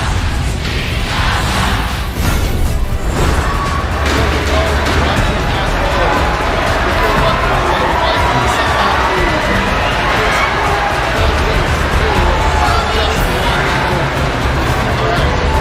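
An esports arena crowd at the Mobile Legends M5 Grand Finals roars and cheers without a break, loud and dense, with shouts rising above the din. Casters talk over the noise.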